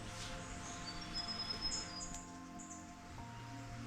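Birds calling in summer morning woods, thin high chirps and whistles, faint and distant over a steady low background murmur, no voices.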